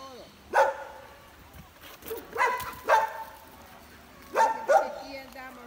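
Dogs barking outdoors in the countryside, with about five sharp barks in short clusters, moderately near, alongside faint background sounds and no clear speech.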